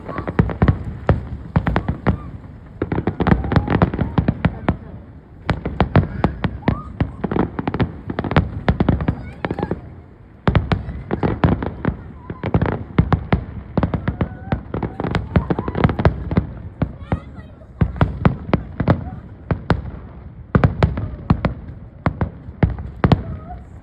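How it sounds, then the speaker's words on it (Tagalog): Rapid, continuous crackling bangs of fireworks exploding nearby, dense bursts with brief pauses, loud and sharp throughout. "Fireworks, man! Fireworks!"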